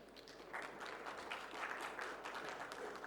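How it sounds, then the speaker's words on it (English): Faint, distant applause from a tech conference audience welcoming a speaker, a soft steady patter of many hands clapping at low level. "Can we have a big round of applause for Mr."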